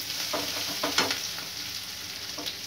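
Mutton frying in a pan for sambar sizzles steadily up close, with scraping stirs and spatula clinks cutting through the hiss.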